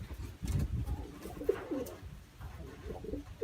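Bulgarian pigeons, rose-colored birds among them, coo softly in a loft, with several low, throaty rolling coos over faint rustling and background noise.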